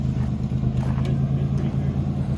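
A Toyota rock crawler drives over rough terrain with a steady low engine rumble and drivetrain drone close by, the motor holding a constant note throughout.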